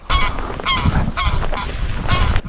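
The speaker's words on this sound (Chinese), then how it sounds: "哦，这还有一只大鹅。" A goose on an Arctic island gives a series of loud, close, rapid honks in an insistent, repeated rhythm over steady outdoor noise.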